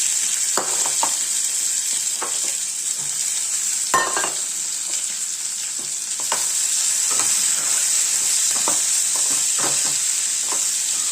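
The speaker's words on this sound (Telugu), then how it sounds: "బెండకాయ వేపు వేయించుకుందాం దానికి నూనె పెట్టి మినపప్పు జీలకర్ర ఎండుమిర్చి పోపు వేయాలి" Steady loud sizzling of sliced okra frying in oil with urad dal, cumin and dried red chillies, with occasional stirring scrapes and clicks throughout.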